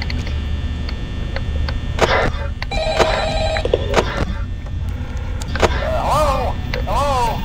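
Phone call ringing in the night-office game Five Nights at Freddy's, a steady electronic ring pattern over other game noise and background sounds, with a voice talking intermittently.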